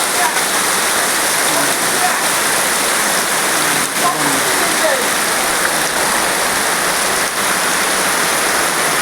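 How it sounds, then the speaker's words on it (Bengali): Heavy monsoon downpour pours steadily onto flooded ground, a dense, loud wash of drops hitting surfaces with no break throughout. "বৃষ্টি কী বৃষ্টি হচ্ছে সারা বৃষ্টি হবে"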